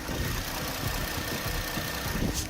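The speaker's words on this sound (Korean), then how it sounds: "엔진 소음을 담기 위해 본네트를 한번 열어봤는데요" A gasoline large sedan engine idling steadily with the hood open, a smooth, quiet, even low rumble close by with no voices.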